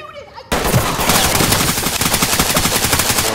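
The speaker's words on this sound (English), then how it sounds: "One shot's fired." Rapid gunfire in the video game Ready or Not bursts in suddenly after a brief quiet moment, a loud, close stream of sharp shots in quick rhythmic succession.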